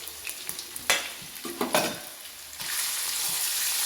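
Ginger garlic paste sizzles and fries in a hot pan, with a few scraping stirs early on before the frying settles into a steady, close hiss.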